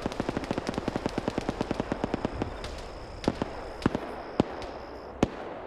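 Gunfire in a video game match: a fast, steady volley of sharp automatic shots, followed by a few louder, isolated single shots spaced a second or so apart.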